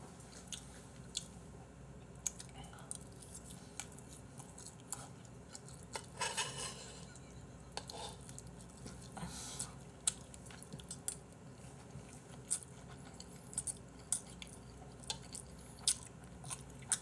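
Someone eats close up, with irregular wet chewing, soft biting and occasional crunchy bites scattered over a long stretch, plus faint clinks of cutlery or dishes.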